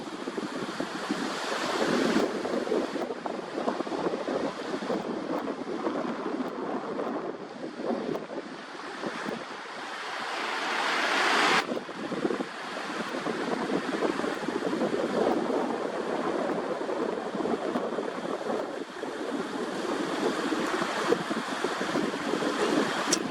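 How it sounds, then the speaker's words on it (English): A southwest wind of about 7 to 10 blows over open water in the evening, making a continuous, fairly loud rush of wind with surf-like wash. It stays steady throughout, with a brief drop midway. "One of the things that the wind does right now is creates a bit of a matte finish on the water."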